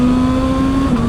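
QJ Motor SRK 921 motorcycle engine holding a steady, close, loud drone with a strong sustained tone and a brief wobble near the end, no talking.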